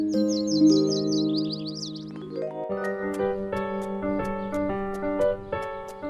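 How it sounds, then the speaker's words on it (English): Several birds sing sweet, high chirping phrases in a forest scene, clear and close, accompanied by gentle melodic music with no talking. "Birds sang sweet songs."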